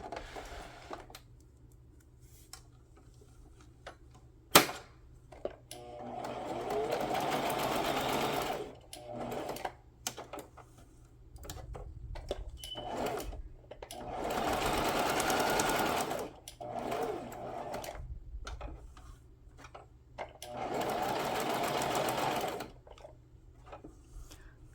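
A sewing machine stitching down fabric scraps into embellishment clusters, running in several sustained bursts of rapid mechanical whirring separated by short pauses, with a sharp click near the start and light handling sounds between runs.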